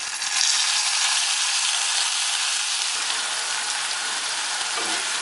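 Ground coconut paste with cumin, green chilli and mustard sizzles hard in a hot pan as it is stirred for an aubergine kichadi, a bright, continuous, close frying hiss with faint scraping.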